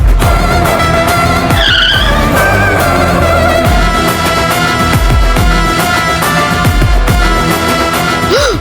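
A car skids out of control after its brakes fail, a loud sustained tire screech and engine roar running steadily throughout under a dense dramatic music bed, with no voices.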